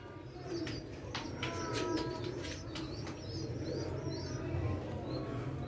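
Pigeons kept in a backyard hobby loft coo continuously in low, rolling murmurs, with occasional higher chirps and a soft flutter of wings mixed in at close range.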